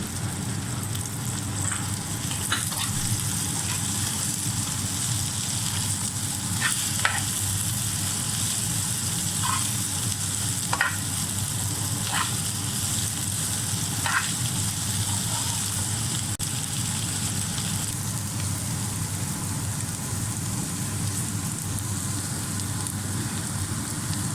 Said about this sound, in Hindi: ये भिंडी भी फ्राई होगी तो ये प्याज उसके साथ साथ